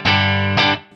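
Electric guitar chord played through a Line 6 HX One / Helix Dynamic Ambience reverb giving a room-like early-reflection ambience, struck twice in quick succession, loud and sustained before a short decaying tail.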